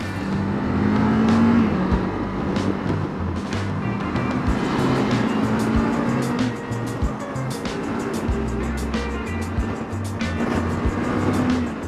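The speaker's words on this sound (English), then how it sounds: "We're gonna do a little merge onto the freeway here, see what the power's like right off the bat." 2024 Kawasaki Z500 motorcycle accelerating to merge onto a freeway, a steady engine drone rising in pitch through the gears under loud wind rush, continuous from start to finish.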